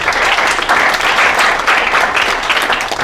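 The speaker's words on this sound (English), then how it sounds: "what's more like a 3 applause?" A comedy show audience gives a moderate, polite round of applause, a steady even wash of clapping with no voices over it.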